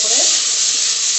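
A lentil dish with ginger-cumin paste fries loud and close in a pan, a dense unbroken sizzling hiss.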